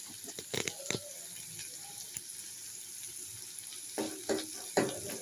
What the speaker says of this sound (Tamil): தாளிக்கிறதுக்கு கருவேப்பிலை போட்டால் தான் நல்லா வாசமாக இருக்கும்.